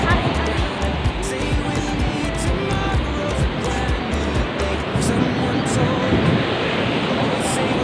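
Rough sea during a typhoon, with a steady roar of surf and gusting wind buffeting the microphone, loud and unbroken throughout.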